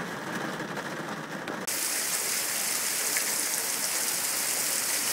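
Light rain falls around a truck parked among trees: a steady, soft hiss of drops that suddenly thickens and brightens partway through, then holds even. No voices.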